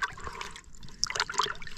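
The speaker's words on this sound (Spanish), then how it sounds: "le voy a tirar un poco de agua porque si no se me escabullen demasiado" Water splashes and trickles briefly and softly over live fishing bait at a lagoon, a short, close burst of pouring.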